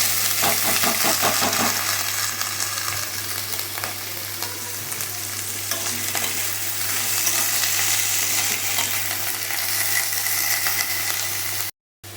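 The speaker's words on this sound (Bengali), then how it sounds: "আলুটা কেটে রেখেছি আলুটা ভাজা করবো" Cut potatoes fry in hot oil in a pan, a loud continuous sizzle with occasional light clinks and stirring scrapes, no voices.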